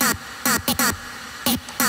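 Vocal chop processed with reverb and crunchy distortion: short, bright, buzzy vocal bursts in an uneven stuttering rhythm, separated by a hissy reverb wash.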